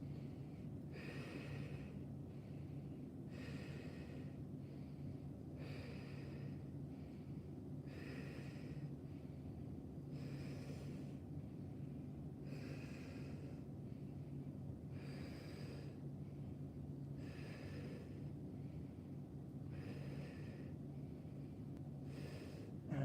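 Slow, steady breaths during a pilates hold with the pelvis in posterior tilt and abs engaged, a regular series of soft airy inhales and exhales repeating about every two seconds over a low background hum.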